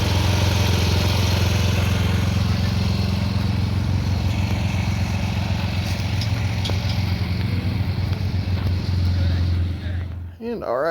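A PowerSmart 4400W portable generator running steadily, a constant droning engine hum heard up close from start to finish, with a voice talking over it near the end.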